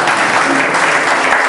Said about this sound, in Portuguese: Bate as palmas bem forte para Deus.